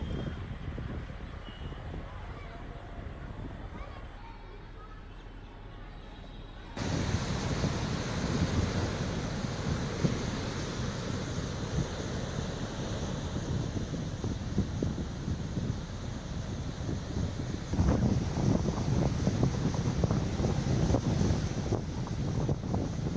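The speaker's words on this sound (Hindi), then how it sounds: "तमिलनाडु के कई जिलों में भारी बारिश के साथ तेज हवाएं चल रही हैं।" Strong coastal winds from Cyclone Ditwah in Tamil Nadu, with high waves and heavy rain: a steady roar of wind buffeting the microphone, growing louder after a few seconds and continuing with rushing surf.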